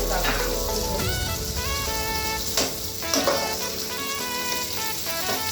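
Green chillies, six or seven of them, sizzle steadily in hot oil, a dense crackling fry that stays loud throughout, with a few clinks of stirring on the pan.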